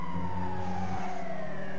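An ambulance siren wails in a Grand Theft Auto V street scene, one steady, sliding tone over a low engine drone, loud and close, with no talk over it.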